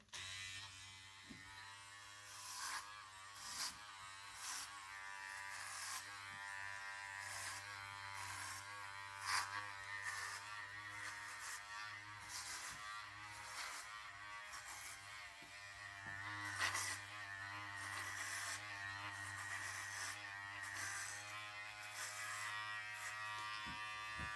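Electric hair clippers buzz continuously while shaving a head down to a 1/8 inch length, a close, steady hum with small shifts in pitch and texture as the blade passes over hair, no talking.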